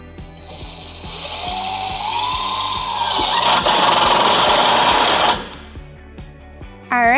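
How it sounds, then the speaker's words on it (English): Self-tapping screws driven with a power driver into a four-flat wiring mounting bracket on a 2007 Chevrolet Colorado, giving a loud, sustained whirring drive that rises in pitch and then cuts off, with brief ratcheting clicks afterward. "We are going to use a 4-flat mounting bracket with our provided self-tapping screws."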